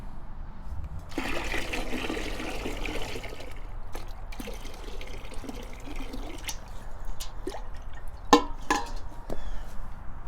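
Water trickles and splashes into a tub being filled for dyeing a rucksack, with a steady watery wash broken by scattered clinks and drips, one louder knock near the end.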